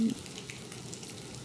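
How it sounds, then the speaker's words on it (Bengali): Potato chops (aloo chop) are frying in oil, a soft, even sizzle that holds steady at low volume throughout, with no voices over it. "সুন্দর করে ভেজে নিচ্ছি"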